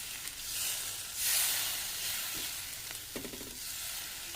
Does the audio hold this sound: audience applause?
no